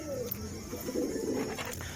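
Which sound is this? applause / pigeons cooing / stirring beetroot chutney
pigeons cooing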